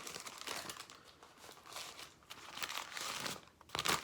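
A Dairy Queen FlameThrower burger is unwrapped from its paper wrapper, producing close, continuous crinkling and rustling that rises and falls in bursts for a few seconds, ending with a louder crumple.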